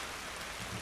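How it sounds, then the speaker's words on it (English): Heavy rain pours down in a steady, dense hiss, with no pauses and no voices. "The rain's all getting really heavy again."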